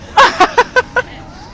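At a family stunt show, a human voice imitates a bird cooing like a pigeon with five quick, evenly spaced coos that start loud and grow softer, heard close and clear over a faint background.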